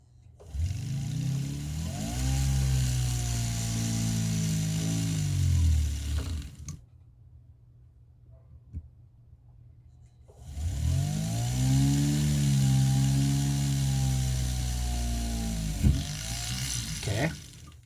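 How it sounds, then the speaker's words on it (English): A small drill bit whines steadily for several seconds while drilling a hole in jewelry-making, pauses briefly, then runs again with a similar high, even buzz at close range. "I did drill the hole, as you guys just saw that"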